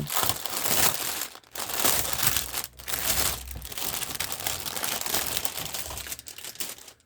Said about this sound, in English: Sorry for the crinkling, guys, but I do know some people like the crinkling